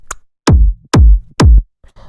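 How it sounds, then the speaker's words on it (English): Fat techno kick drum in a Mau5trap style: three loud, booming hits spaced about half a second apart, each with a sharp click and a short deep tail, heard alone and up close. "So you can hear it's just this nice fat kick"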